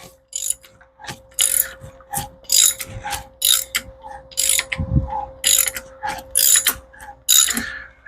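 Porsche 928 swap candidate engine with its plugs out being turned over by hand, a series of loud close ratcheting clicks and metallic gear clatters in irregular bursts with brief pauses between pulls.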